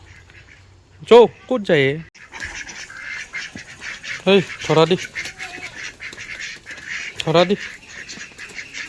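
Domestic ducks at a rural Assamese home give several loud, nasal quacks in short bursts, close by, while people talk over a steady background hum.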